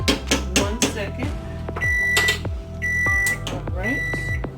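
A timer beeps as noodles finish cooking for homemade lasagna, a few sharp electronic beeps in repeated bursts amid clattering kitchen noise and thumps, with a person talking.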